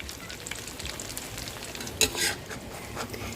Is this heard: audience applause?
no